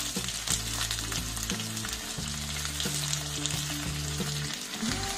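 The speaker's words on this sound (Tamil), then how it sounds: "அதனால பக்கத்துல நின்று வதக்கிட்டு எடுத்துடலாம்." Brinjal sautéing in hot oil in a pan for a brinjal potato masala gravy, a continuous close sizzle with repeated clinks and scrapes of a stirring spoon, no voices.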